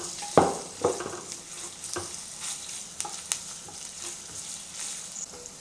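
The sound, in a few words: ginger, garlic and onions sauteing in oil in a pan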